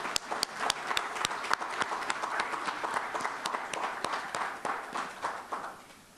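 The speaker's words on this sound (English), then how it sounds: "Can we have a round of applause for them," Audience at a small business grant awards ceremony gives a round of applause, a sustained patter of many hands clapping with sharp individual claps throughout.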